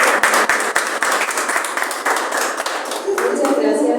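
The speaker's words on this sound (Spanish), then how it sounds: "Por favor, si le podemos dar un fuerte aplauso" An audience at a book presentation at a book fair breaks into applause, a dense, loud burst of many hands clapping close by that holds steady for the whole stretch.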